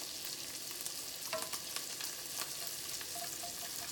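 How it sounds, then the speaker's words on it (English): Pepperoni sizzles and crisps in hot oil in a pan, a steady, fine crackling hiss with small popping spatters, close and moderately quiet, with no talking. "We just kind of want to make the pepperoni a little bit crispy and delicious. So I'm just going to kind of let it simmer out."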